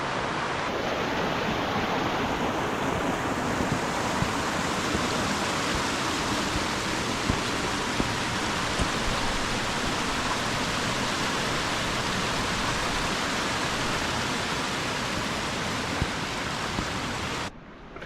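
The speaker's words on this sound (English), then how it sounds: "That stream's a good reminder that I need to collect some water" A mountain stream in the snowy winter Lake District mountains rushes steadily, a dense, even, close wash of flowing water that holds constant without pause.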